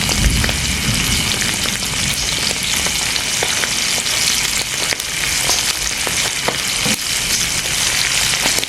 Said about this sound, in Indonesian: Goreng garing.